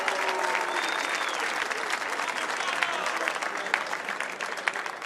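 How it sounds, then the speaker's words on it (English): Audience applause at a pool tournament award ceremony, a sustained crowd of many hands clapping steadily, dense and lively throughout, with faint voices mixed in. "Please, big applause for our runners-up, Josua and Moritz Neuhausen, Team Germany."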